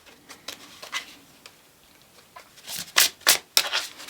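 Tarot oracle cards being shuffled by hand, a soft papery riffling that comes in several crisp, brisk bursts, growing louder toward the end, with no talking.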